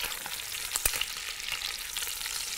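Garlic cloves fry in hot oil alongside whole meat for a beef shank dish, giving a steady close sizzle with a few sharp pops and crackles near the start, no voices.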